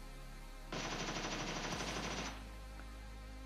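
Sustained machine gun fire from an M762 rifle shooting a Jeep in PUBG, one continuous rapid rattling burst of about a second and a half over a low steady hum, fairly close.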